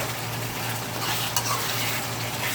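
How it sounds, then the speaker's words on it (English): A steady, even sizzle of sauce frying in a pan, continuous and close, with a brief faint utensil clink partway through. "So my sauce is frying."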